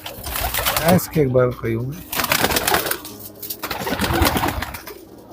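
Neelufar Bedaag pigeons in Lucknow give a short, throaty coo close by, partly mixed with someone talking over them.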